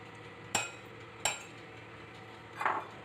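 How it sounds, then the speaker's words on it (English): A whisk knocks twice against a bowl of mashed bananas and sugar, two sharp close taps a moment apart, followed by a softer scraping stir, with no talking. "Just give it a nice whisk."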